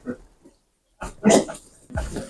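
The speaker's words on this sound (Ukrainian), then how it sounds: "Та що ж ти налякав усіх свиней?" Short bursts of frightened pig squeals and grunts, loud and close, separated by brief pauses.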